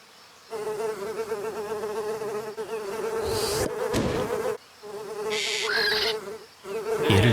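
A fly buzzes steadily and close by, a continuous droning hum that rises and wavers, cutting off briefly twice before resuming, with no talking.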